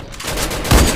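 Gunfire from a video game rings out in a quick burst of sharp shots within a single second, loud and close, ending in a heavier blast.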